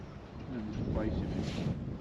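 Wind gusting across a fishing lake in open air: steady, breathy rushing noise that swells slightly midway and fills the whole clip, with faint voice-like sounds mixed in.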